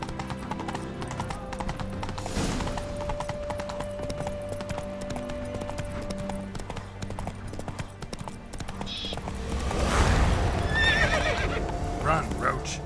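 Roach, the horse in The Witcher 3, gallops with rapid, steady hoofbeats and lets out a loud neigh near the end, with game music underneath and voices speaking at points.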